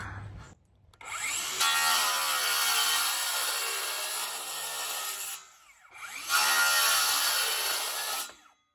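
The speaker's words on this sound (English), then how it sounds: "We got to cut this end off so that we can put this sweep on there." A power saw cuts through the end of a glued pipe in two long, loud rasping passes with a brief pause between, close by and with no talking.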